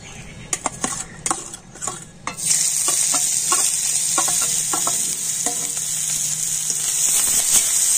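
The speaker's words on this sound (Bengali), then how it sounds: "আর এখন সমস্ত কিছু তেলের উপর কিন্তু একটু লাল করে ভেজে নেব।" Chopped garlic, onion and green chili drop into hot oil and fry with a steady bright sizzle, preceded and punctuated by clinks and scrapes of a utensil stirring in the pan.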